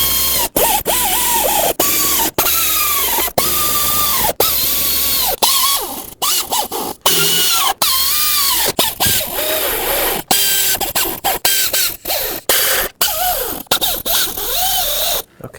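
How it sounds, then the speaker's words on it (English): An air ratchet runs down timing cover bolts on a 1997-2003 Ford F-150 with a 5.4L engine, in loud buzzing bursts broken by short pauses as it moves from bolt to bolt. "Then I'll just grab my air ratchet, run them down"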